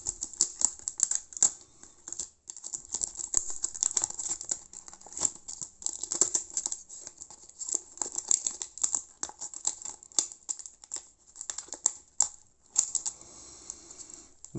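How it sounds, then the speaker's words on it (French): Small scissors of a Pradel Excellence pocket knife from Thiers cutting material, giving a quick run of crisp, close snips and crinkles with brief pauses, fairly quiet and with no talking. "Voilà l'utilisation de ce petit ciseau, entre autres."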